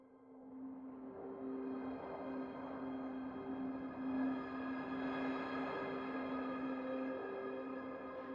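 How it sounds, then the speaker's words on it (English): A sustained choir pad from Best Service's Elysion synthesizer by Sonuscore holds a steady, airy chord, with soft breathy harmonics swelling slightly midway before settling. "Oh, wait, I've still got the choir on."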